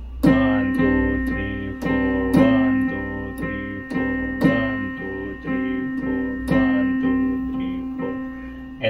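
Piano notes struck at a steady quarter-note pulse, each attack ringing into the next with a sustained mid-range tone, played alone without voices.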